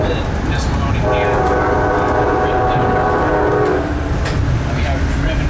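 A locomotive-hauled train rolls along the rails between Reading and Jim Thorpe, Pennsylvania, a loud steady rumble with a sustained horn-like tone in the middle stretch and faint rhythmic clacking.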